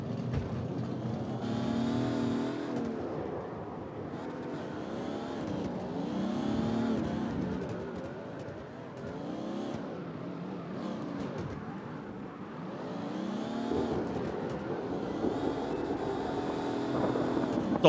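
A race car engine roars continuously through a qualifying run, swelling and fading as it revs through gears and passes, loud and sustained with no talking.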